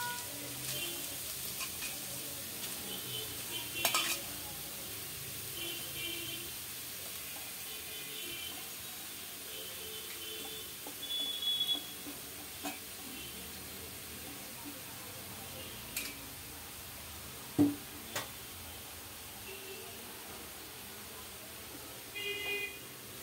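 Grated carrots frying in ghee in a pan for carrot halwa, a steady low sizzle with occasional stirring clinks, continuous and fairly faint.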